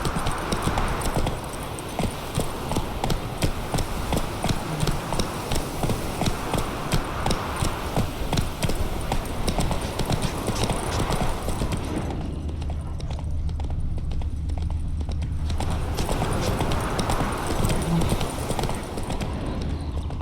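Hooves clip-clop continuously as the horse Roach gallops in The Witcher 3, a fast, steady, loud drumming rhythm that dips briefly near the end before resuming.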